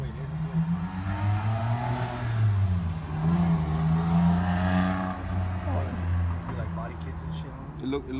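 A Honda car drives past nearby with a rising and falling engine hum and a whooshing swell, while people talk over it.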